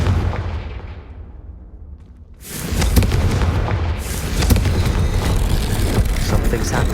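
A Confringo blasting spell explodes in Hogwarts Legacy, a sudden loud booming burst of crackling, rumbling noise that erupts after a quieter stretch and stays dense and sustained to the end.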